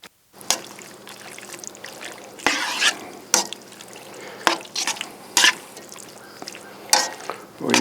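Sauce poured from a bottle into a sizzling pepper steak stir fry with vegetables on a grill, giving a steady hiss punctuated by repeated sharp bursts of crackling as liquid hits the hot surface.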